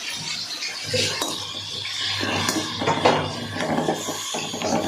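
Chutney ingredients and curry leaves are sautéed in a pan, with a spoon scraping and clinking against the metal over a soft, steady sizzle, close up.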